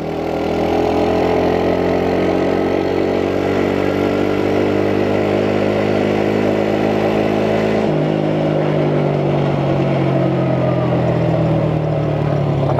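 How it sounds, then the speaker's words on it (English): Engine of a Chinese-made quad ATV riding on a road, a loud steady drone with heavy road noise throughout and a shift in engine pitch partway through, no talk. "there is a ton of road noise, and I didn't even downshift for that turn"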